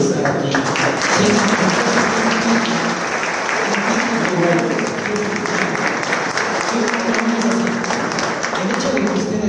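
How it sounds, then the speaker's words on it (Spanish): Large conference audience gives a sustained, strong round of applause, dense and steady throughout, with some voices underneath. "quiero que se den un fuerte aplauso solo por el hecho de estar aquí"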